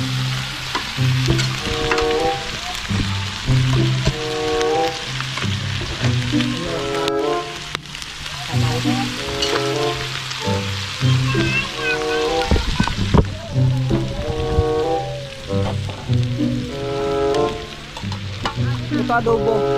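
Chicken adobo sizzling and frying in a pan while being stirred, with a steady crackle and repeated scraping and clattering from the stirring, heard outdoors in the evening in Zamboanga City, Mindanao.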